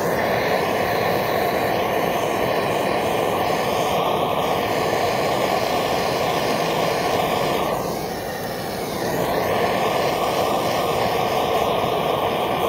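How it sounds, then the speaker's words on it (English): A torch flame heats bonsai pieces with a loud, steady, close roar that holds almost unbroken throughout, dipping slightly once near the end. "The other pieces are actually getting torched in the process of torching this."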